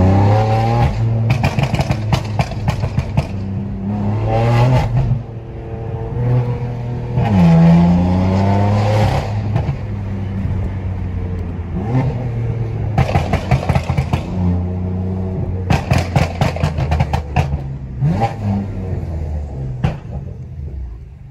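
A tuned BMW M3 revs hard after a downshift and climbs through the gears on an open road, with repeated sharp throttle blips and rising roars, close and powerful, no talking.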